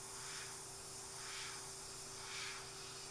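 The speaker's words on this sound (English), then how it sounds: "if I spray this up here" A spray bottle gives a few soft hissing bursts, spaced roughly a second apart, over a steady low hum in a quiet room.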